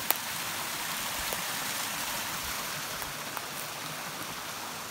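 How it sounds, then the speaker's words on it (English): Steady broadband rushing of a creek on Mt. Baldy, California, continuous and fairly close, with occasional faint drips or splashes and no voices. "Water running."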